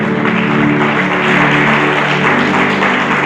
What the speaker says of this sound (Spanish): Un fuerte aplauso para Jesucristo